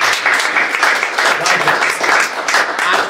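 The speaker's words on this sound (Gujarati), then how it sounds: "એક વખત જોરદાર તાળીઓ." An audience at a music and conversation event gives loud, sustained applause with closely packed, continuous clapping and no pause.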